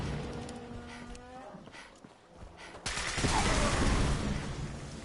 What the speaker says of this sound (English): Who threw a grenade and blew up my dog?